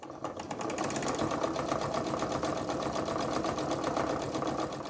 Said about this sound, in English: So here we're just going to sew that seam down and it encases our raw edges.